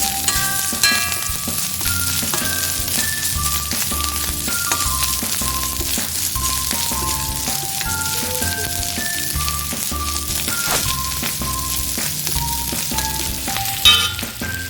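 Crushed ginger and garlic fry with onions in a pan for an egg curry, giving a continuous bright sizzle with small crackles under steady background music, with no talking.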